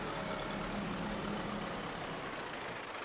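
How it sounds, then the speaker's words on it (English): A tractor engine in the farming video game Farming Simulator 22 hums at a low, steady idle, faint and continuous, with no voices. "Got good old boy's tractor pulling this one."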